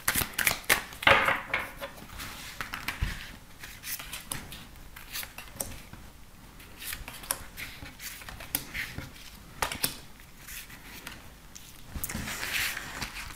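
Tarot cards are shuffled and drawn, making a series of close, crisp flicks, slaps and papery snaps in uneven bursts with short pauses between them.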